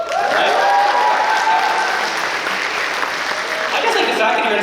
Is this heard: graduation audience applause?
yes